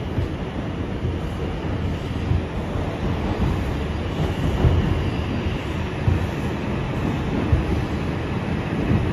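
An R142 subway train running on the Bronx-bound 6 local line, a continuous low rumble and rattle of the car in motion with faint clacks over the rails, heard from inside.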